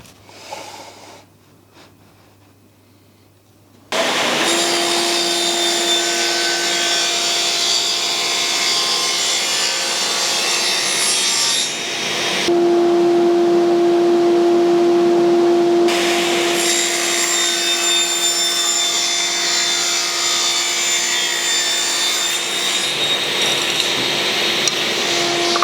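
A power tool cuts a channel along a piece of wood for a jig build. After a quiet start it kicks in with a loud, continuous whine that holds steady, its tone shifting briefly midway.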